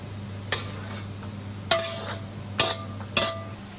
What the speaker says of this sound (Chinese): 爆炒鱿鱼